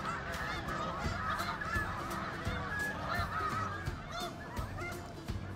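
Large flock of snow geese gathered at a lake in a recreation park, many overlapping honks and calls forming a steady noisy chorus, moderately close, with no talk.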